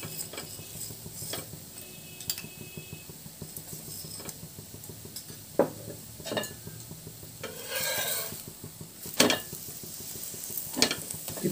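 Methi paratha frying with oil on a pan, a soft continuous sizzle broken by scraping and tapping from a spatula, some sharper clicks and a brief louder hiss near the end, no voices.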